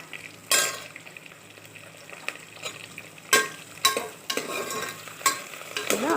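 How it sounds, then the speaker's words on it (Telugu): Green chillies fry in hot oil, sizzling steadily under irregular loud scrapes and clatters of a spoon stirring the pan, recorded close with no talking. "ఇలా ఆయిల్లో వేయించుకోవాలి."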